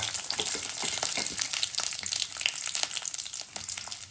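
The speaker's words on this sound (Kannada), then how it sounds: "ಇದನ್ನು ಸ್ವಲ್ಪ ಫ್ರೈ ಮಾಡ್ಕೊಳ್ಳೋಣ" Ginger, garlic and green chillies fry in hot oil in a pan, giving a continuous bright crackling sizzle with small popping bursts, close and steady throughout, without talk.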